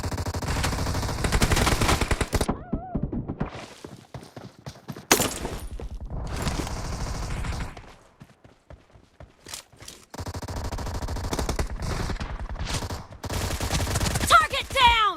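Suppressed Beryl M762 assault rifle gunfire in a PUBG Mobile team deathmatch, with a 6x scope fitted. Rapid bursts come in several loud clusters separated by short pauses, with a few quieter game effects in the gaps.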